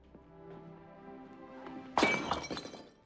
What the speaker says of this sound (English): the Bloody Mary shattering on the floor